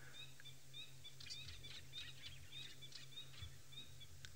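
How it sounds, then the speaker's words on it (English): A Coqui francolin calling from some distance, with repeated thin high whistled notes over a low steady hum, plus a few fainter chirps from other birds. "I wonder if you can hear the Coqui Franklin calling there."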